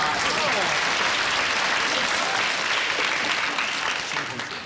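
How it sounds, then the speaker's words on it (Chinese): Studio audience applauding, a loud continuous burst of many hands clapping close by, tapering off at the end. "掌声鼓励一下。"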